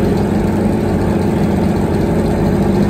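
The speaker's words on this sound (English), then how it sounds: "we are set to send motorcycles down the racetrack" Pro stock drag racing motorcycle engines at a drag strip in Brisbane, Australia, a loud, dense, continuous rumble that stays steady throughout with no talk.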